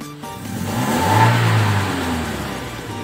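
A warmed-up Toyota Innova with a 2000 cc petrol engine revs loud and close, rising sluggishly from idle with delayed throttle response, then holding a steady drone.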